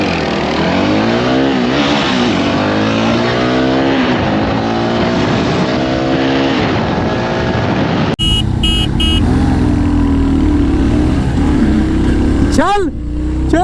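A Jawa Bobber 42 and a Royal Enfield Hunter 350 rev and accelerate hard in a drag race, their engines climbing through gears loud and close, followed by a sudden change to wind-buffeted engine noise and a quick high-pitched sweep.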